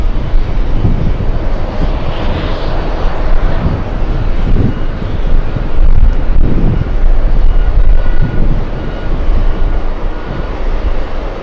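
Airbus A380 jet engines roar at JFK airport, a loud, continuous broadband rumble that swells and eases slightly, with wind buffeting the microphone throughout.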